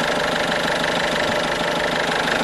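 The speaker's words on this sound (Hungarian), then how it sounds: "a HDI motor pedig itt dolgozik" A Citroen C4 1.6 HDi diesel engine idling, a steady close clattering hum with a fine regular knock, constant and loud with no voices.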